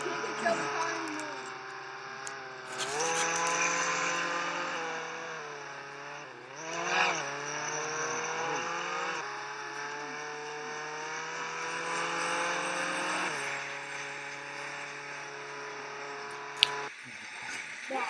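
A car drives and revs steadily, its engine tone shifting as it accelerates, with a brief squishy skid midway and a sharp knock near the end; a person talks over it.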